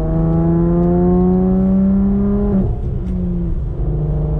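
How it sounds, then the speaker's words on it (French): A V6 car engine idles and revs steadily with a deep, harmonic-rich drone, close and loud, dropping in pitch partway through as the revs ease off, with no talk over it. "t'entends juste le bruit du V6 en fait, tu vois, il ronronne un petit peu"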